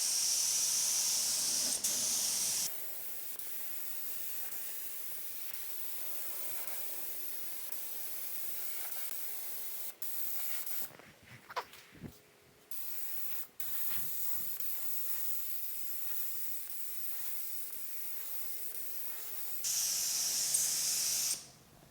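A spray gun hisses steadily as it lays primer onto the hood of a 1950 Chevy truck, a loud continuous spray broken by a couple of brief pauses and ending in a short, louder burst.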